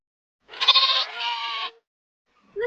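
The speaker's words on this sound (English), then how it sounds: "Here are the sheep. They say ba ba." Sheep bleating: a single loud, close, wavering bleat lasting about a second, followed by the start of another call, against a silent background.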